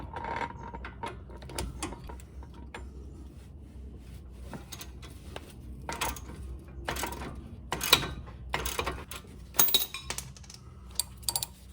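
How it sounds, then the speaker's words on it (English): Metallic clicks and clinks of a ratchet loosening a ball joint knuckle bolt on a Nissan Rogue during CV axle replacement, an irregular series of close, moderately loud ratcheting bursts and tool taps with no talking. "Now I'm going to remove this ball joint knuckle bolt."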